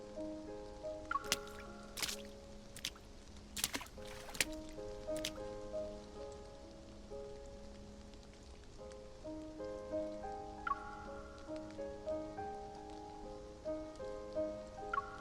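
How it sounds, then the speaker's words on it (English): Heavy rain falling in the video game Love and Deepspace, a soft, faint patter with scattered drips under gentle musical tones. "Look how heavy the rain is."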